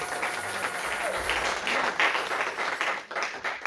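A church congregation applauding, a dense, steady wash of clapping from many hands filling the space, loud and sustained throughout with no pause.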